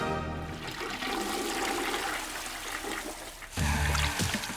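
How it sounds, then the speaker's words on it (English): A household toilet flushes with a rushing gurgle of water, then the tank refills with a steady hiss and trickle, rising into a louder surge near the end, heard close with no talk. "The tank is full of water, you're reset, and the toilet's ready for the next flush."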